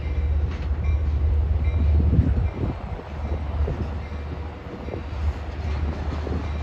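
An LIRR train rolls into Jamaica station on track 8, its deep rumble swelling and easing with scattered wheel clatter on the rails, close and continuous.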